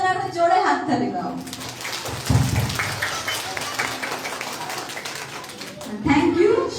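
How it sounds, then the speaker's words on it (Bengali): Schoolchildren at a health and hygiene awareness camp in a primary school clap loudly together in a sustained burst of applause, with voices speaking just before and just after. "সবাই নিজেদের জন্য একটা জোরে হাততালি দাও"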